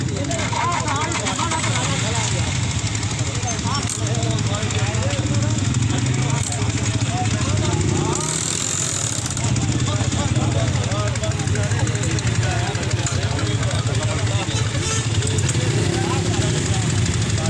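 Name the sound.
motorcycle engine idling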